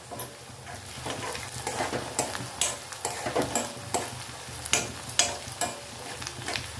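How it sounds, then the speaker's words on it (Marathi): Onions cook in a pan for a dried bombil and potato curry, a soft continuous sizzle with a run of close, rhythmic spoon taps and scrapes against the pan. "हे बघा कांदा ना आता चांगलं शिजत आलेलं आहे"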